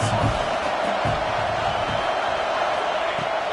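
A football stadium crowd cheers loudly on a third down, a constant dense roar with a few louder thumps and whoops rising out of it.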